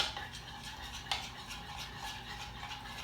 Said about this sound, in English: and then you're gonna stir those in